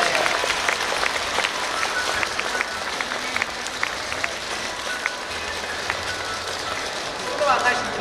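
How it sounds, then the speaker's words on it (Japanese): Crowd at the Hakata Dontaku festival opening ceremony on the Hakata Station main stage applauds goodwill ambassadors with sustained, dense clapping under a faint voice. "どうぞ大きな拍手でお送りくださいませ"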